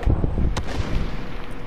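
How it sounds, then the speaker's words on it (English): AK rifle fired in the Call of Duty Warzone game, a booming shot followed by a rolling echo and a sharp crack midway, loud and close over steady game noise, with no speech. "this goddamn AK hits hard"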